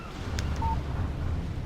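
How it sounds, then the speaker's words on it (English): A short electronic text message alert chimes once from a phone in the Alan Wake video game, a brief clear tone over a low ambient wind-like rumble. "Text message from Barry."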